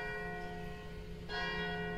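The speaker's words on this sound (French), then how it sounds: "Les cloches, elles sonnent l'heure du travail." Church bells ring out the hour at 8 o'clock in the morning, a steady sustained toll with layered ringing tones that swell louder partway through.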